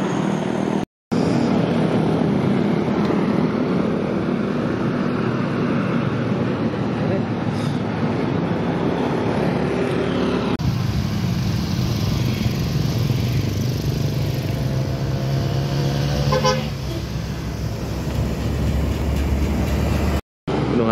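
A Murni Jaya 130 intercity bus bound for Yogyakarta pulls away from Ngadirejo terminal, its engine a loud, steady roar that shifts pitch midway as it accelerates, with a brief rising whine near the end.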